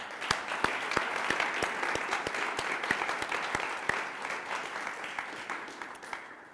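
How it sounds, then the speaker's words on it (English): A crowd at a civic bill-signing event for Forest Park gives park volunteers a sustained round of applause, with dense clapping and sharp individual claps standing out, tapering slightly toward the end. "So I'd like to give a big round of applause to our volunteers"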